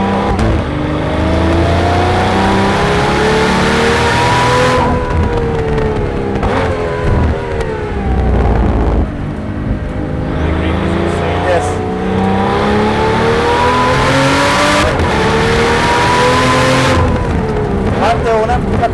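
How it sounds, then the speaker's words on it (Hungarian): A Pagani Utopia sports car driven hard, its engine revving loudly in repeated rising and falling sweeps, close and constant throughout. "tényleg odavágja az autót rendesen, hallatszik is"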